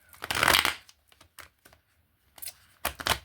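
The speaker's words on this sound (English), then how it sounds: "let's get a better shuffle" Tarot cards are riffled and shuffled in a few quick bursts, crisp fluttering snaps separated by short pauses, close up.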